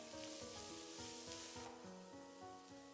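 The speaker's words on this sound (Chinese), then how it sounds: "稍微翻炒一下。" Green peppers with garlic and fermented black beans are stir-fried in a little oil, a spatula scraping in a steady rhythm over a faint sizzle, quiet throughout.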